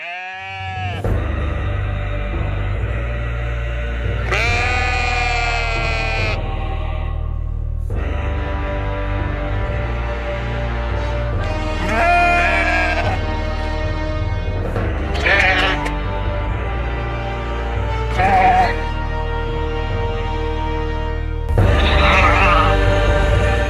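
Sheep bleating repeatedly and close by on a Nova Scotia farm, several loud, wavering cries spaced every few seconds over a low steady rumble.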